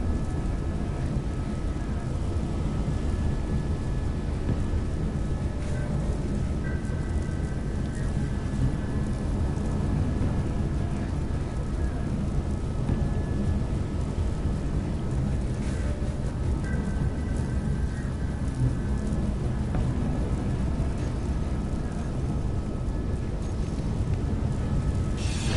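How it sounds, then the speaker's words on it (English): Video game thunderstorm: steady heavy rain and wind noise fill the whole stretch, with low thunder rumbling underneath, loud and continuous with no talking. "Storm inbound."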